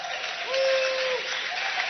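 A modest crowd at a college basketball game applauds, a thin patter of clapping that swells briefly near the middle and settles again, with a faint squeak and tone mixed in.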